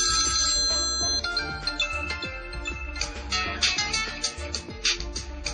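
A Nexus One phone plays its ringtone, a bright melodic tune with steady beats and chiming tones, loud and close, with no talking over it.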